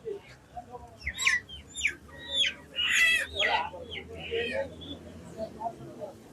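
Chickens and ducks at a Friday poultry market in Keraniganj: several close, sharp clucks and squawks in quick irregular bursts over a low crowd murmur, with voices talking in the background.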